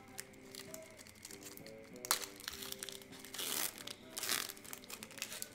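Cellophane wrapper on a football trading card pack crinkling and crackling in close, irregular bursts as it is pulled apart, with louder crunches near the middle and end.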